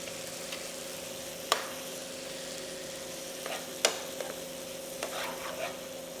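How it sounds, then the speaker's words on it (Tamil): Fried seer fish (vanjaram) pieces being tossed in masala in a pan, a steady low sizzle with a few sharp spatula scrapes and clacks against the pan, close up and without talk. "இப்போ நம்ம வந்து இந்த வறுத்து வச்ச மீன் துண்டுகளை இதில் போட்டு ஒரு 2 நிமிஷம் நம்ம அதை நல்லா டாஸ் பண்ணணும்"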